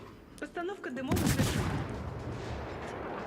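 Ship guns fire in World of Warships from a Tier IX British destroyer, a sudden heavy booming salvo that swells and fades over a couple of seconds, following a brief snatch of speech.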